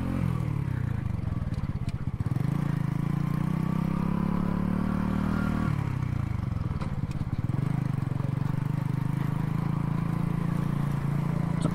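A motorcycle engine runs loud and close through a short ride, its steady low drone rising and falling with two clear revving surges, plus some mechanical clatter and whir, and no talk over it.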